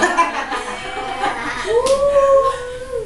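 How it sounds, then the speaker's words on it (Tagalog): A nearby dog howls and whines in drawn-out, rising and wavering tones, with a few short yips and no clear barking. "Aso."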